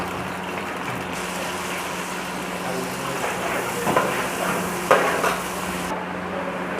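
Chopped onions frying in hot oil in a cooking pot while being stirred, a steady close sizzle broken by a few knocks and scrapes of the spoon against the pot, no talk.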